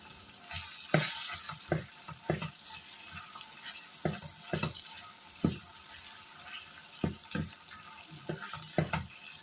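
Steady sizzling of peppers and lor cheese frying in a pan, with repeated clattering stirs and scrapes at an irregular rhythm, close by.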